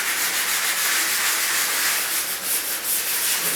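A 3-inch cutting disc grinds across a concrete floor, giving a steady, loud abrasive hiss and rasp close by that runs continuously with slight swells and no talk.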